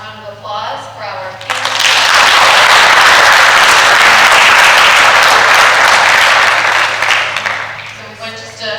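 An audience at a justice conference gives a final round of applause after a panel's questions, loud dense clapping swelling in after brief talk and holding strong before easing off.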